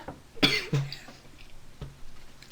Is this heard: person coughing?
yes